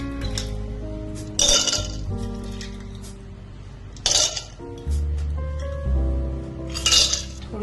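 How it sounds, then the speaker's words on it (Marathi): Ice cubes drop into glasses for a cold coffee, with several bright clinks and clatters in separate bursts against a steady background hum, and no talking. "बर्फ घालते"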